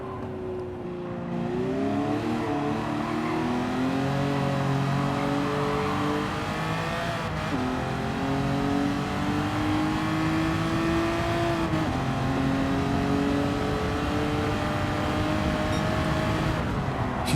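A Ferrari Testarossa in Gran Turismo 7 drones steadily under acceleration, its engine pitch climbing through the revs, dropping briefly at a couple of gear changes, then pulling up again, loud and close with no talking.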